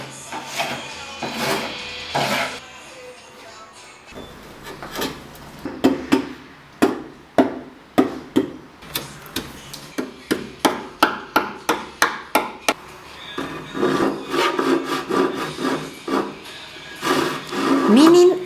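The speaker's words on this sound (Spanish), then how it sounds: "Con distintas herramientas voy creando hendiduras e imperfecciones típicas de la madera desgastada" Hand tools strike and dent a wooden tabletop to give it a worn, distressed look, a quick run of sharp close knocks and thwacks, with scraping and handling noise around them.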